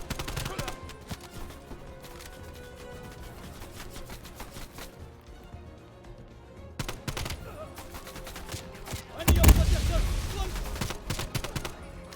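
Heavy automatic gunfire from an enemy turret in a Cold War campaign shooter, sustained bursts with a louder barrage near the end, mixed with battle noise and shouting soldiers.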